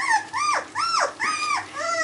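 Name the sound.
Australian Shepherd puppies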